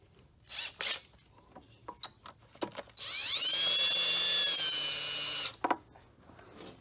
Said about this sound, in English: I'm just using a regular cordless drill, nothing fancy